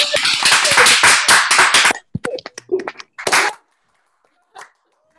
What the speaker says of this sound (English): Maybe I can hear some real claps, like through your microphones too.